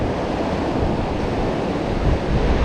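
Big ocean waves breaking on a Durban beach, a loud, dense, continuous roar of crashing surf with wind noise, close and steady.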